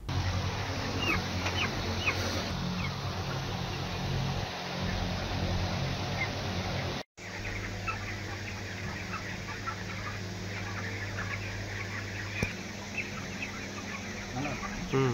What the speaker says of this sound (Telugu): ఇది 3 కాళ్ళ కోడి.